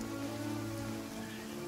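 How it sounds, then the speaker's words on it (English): Soft rain falls steadily in Genshin Impact, a quiet continuous patter layered over a faint sustained musical hum, with no talking. "Oh, it's raining."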